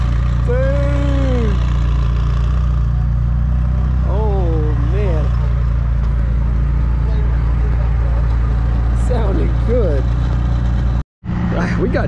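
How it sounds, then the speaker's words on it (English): A black McLaren supercar engine rumbles loud and steady at close range, a deep sustained drone with no clear revving, while voices talk and cheer over it. "A black McLaren from Jotec. Just listen to that"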